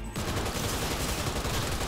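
Sustained assault rifle fire in Cyberpunk 2077, a dense, loud, continuous burst of rapid shots starting abruptly and running without pause.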